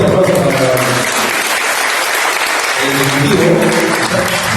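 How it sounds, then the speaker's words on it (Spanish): Loud, dense applause from an audience at a Cocina Ancestral event, continuous clapping throughout with voices speaking underneath. "un fuerte aplauso para"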